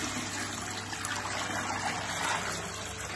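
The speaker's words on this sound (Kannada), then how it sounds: "ನಾನೀಗ ಇದಕ್ಕೆ 6 ಲೀಟರ್ ನೀರು ತಕೊಂಡೆ. ಈಗ ಒಂದು ಟಬ್ಬಿಗೆ ಹಾಕ್ತೀನಿ, ಪ್ಲಾಸ್ಟಿಕ್ ಟಬ್ಬಿಗೆ" Six litres of water pouring into a plastic tub, a steady, continuous trickling gush at low level with no talk.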